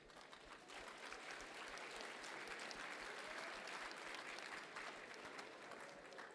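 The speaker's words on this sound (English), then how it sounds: "Now, please give a round of applause to the DECA alumni helping us with SCDC this" An audience at a state conference opening session in a university hall gives sustained applause, dense clapping carrying on evenly throughout at a faint overall level.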